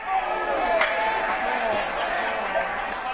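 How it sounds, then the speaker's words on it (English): Large crowd at a college men's lacrosse game, Colorado against Chapman, producing a steady roar of cheering with scattered claps and whistles, continuous throughout at moderate loudness and mixed with commentator talk. "Huge crowd out here, as there always is, but against Chapman, everyone really tries to come out."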